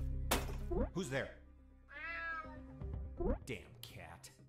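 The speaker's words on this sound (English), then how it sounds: "Damn cat." A cat meows in the video game UnMetal, one drawn-out, clear meow in the middle, with someone talking before and after it over a steady low game hum.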